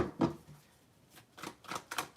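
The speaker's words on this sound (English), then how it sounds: "I'm being lazy with my shuffling." Tarot cards being shuffled by hand, a few soft papery riffles and slides in quick bursts, close and quiet, with no talk.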